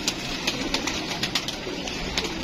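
A young male pigeon held in the hand by a pigeon keeper, giving a run of soft, rhythmic flutters and coo-like bursts over a steady background hiss, close by with no talking.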